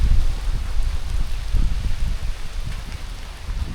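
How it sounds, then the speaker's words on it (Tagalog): Heavy rain pours down steadily on Mt. Romelo in fog, a dense continuous wash of drops with gusty low rumbling, no voices. "Napakalakas ng ulan."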